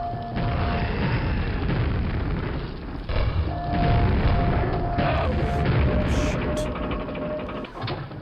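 Grenades explode in the video game Quake VR, booming blasts layered over a constant game soundscape of rumbling and mechanical noise with a steady tone, loud and continuous throughout.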